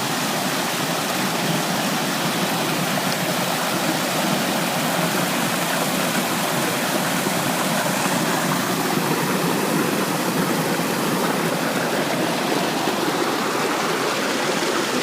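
Pistyll Rhaeadr waterfall in North Wales roars in a steady, dense rush of falling water, loud and constant throughout with no voices.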